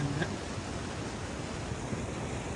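River water rushes fast through the culvert of a temporary bridge at Eral, near Tiruchendur in Thoothukudi district, as a steady, unbroken roar with wind buffeting the microphone and no voices.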